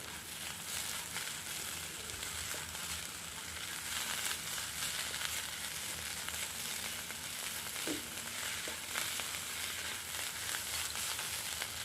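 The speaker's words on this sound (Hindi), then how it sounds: "अब ये जो मेरा लौंग, इलायची और मिर्ची का कूट है उसको मैं इसमें डाल दूँगी। थोड़ा सा इसके साथ इसको फ्राई करूँगी।" Crushed clove, cardamom and chili fry in a pan, giving a continuous close crackling sizzle with a few sharper pops and faint stirring, no voices.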